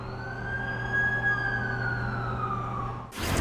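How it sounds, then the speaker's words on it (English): An ambulance siren in The Amazing Spider-Man 2 video game wails steadily and loudly for about three seconds, its tone sliding slowly downward, before a sudden burst of noise cuts it off. "That's the ambulance I called."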